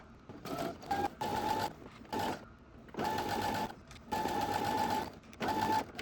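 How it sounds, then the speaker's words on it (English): A sewing machine stitches a fabric pillowcase seam in several short bursts of rapid mechanical stitching, pausing briefly between each run. "You're just going to do everything on your sewing machine."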